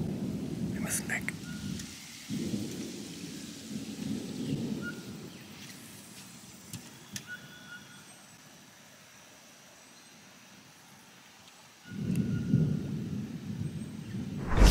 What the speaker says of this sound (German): Der Regen geht los.